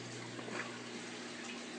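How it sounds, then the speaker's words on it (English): Water flowing through DIY wet/dry trickle filter plumbing on a rack, a steady soft broadband rush that stays even throughout, faint and continuous with a low hum beneath and no voice. "And the water flows down through this 1 inch,"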